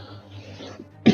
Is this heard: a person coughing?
yes